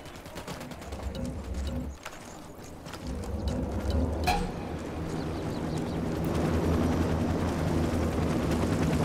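A helicopter in the Ghost Recon Wildlands video game, a steady low rotor rumble that grows louder over nine seconds, mixed with scattered gunfire bursts and sharp clanks.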